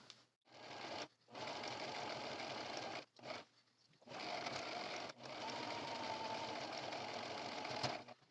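A sewing machine stitches the top seam of a fabric drawstring bag in several steady whirring runs of one to three seconds each, separated by short pauses.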